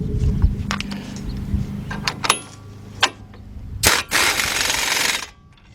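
Rapid mechanical rattling bursts from a tool tightening a bolt on the front right strut assembly of a 2003 Lincoln Navigator, with several short loud hits followed by a longer sustained run, up close.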